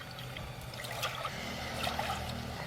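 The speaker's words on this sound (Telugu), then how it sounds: "ఇగో మినుముల పాశం వండుకోవడానికి 3 కప్పుల నీళ్ళు పోసుకుందాం" Water is poured into a cooking pot for black gram, a faint close trickle and splash that is soft and continuous.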